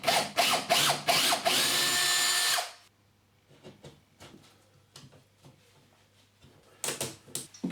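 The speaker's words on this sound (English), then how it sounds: "I can now drill this fixing hole." A power drill bores a fixing hole into a plasterboard wall, with several short whirring bursts and then a sustained loud run that stops abruptly, followed by quiet handling clicks and a final few quick drill bursts.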